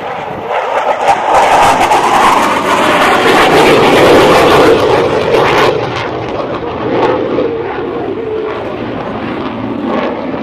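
An F-18 fighter jet roars loudly overhead during an air show demonstration, swelling to a peak and then fading into a lower, distant rumble.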